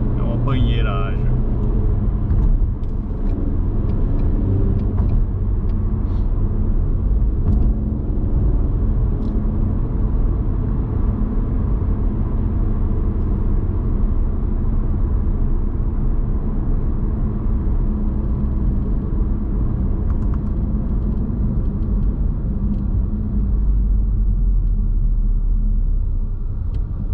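A Ford Mustang drives along a road in daylight, its engine and tire rumble steady and loud throughout, with someone talking over the constant low drone.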